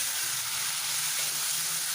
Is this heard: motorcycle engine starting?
no